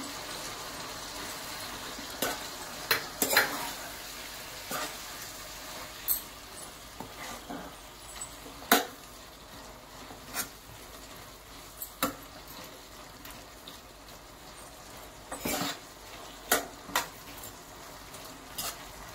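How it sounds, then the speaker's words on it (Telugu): A spoon works through chikkudu kayi curry in a pan, giving intermittent scraping and clinking strokes spread over a soft, low sizzle, heard alone and at moderate distance. "సో ఇప్పుడు దీన్ని మనం ఒకసారి కలుపుకుందాం."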